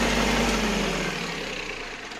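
A tractor engine driving a potato digger hums steadily at close range, its low rumble easing slightly as the revs drop.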